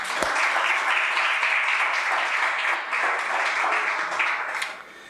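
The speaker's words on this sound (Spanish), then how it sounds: "Dale un fuerte aplauso a Dios." A church congregation gives loud, sustained applause for about five seconds, a dense steady wash of clapping from a sizeable crowd that tapers off slightly at the end.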